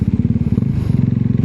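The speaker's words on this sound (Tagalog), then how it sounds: "Medyo high speed yung motor ko sa first gear, kaya parang nahihirapan siya pagka low speed at low RPM." A motorcycle rides in first gear at low speed and low RPM, its engine lugging with a steady, rapid, loud throbbing beat close by, without any voices.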